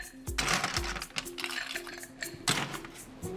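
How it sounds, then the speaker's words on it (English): A gin cocktail with fortified wine stirred in a glass, ice and a spoon giving bright clinks and taps in an irregular rhythm, close and fairly quiet, with a short low knock near the start. "And then we're just going to give that a little stir."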